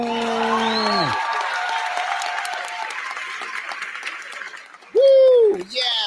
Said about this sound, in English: I love that applause.